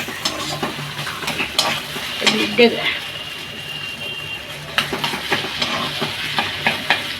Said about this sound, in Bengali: একটু খুন্তি দিয়ে চেপে অল্প তেল দিয়েছি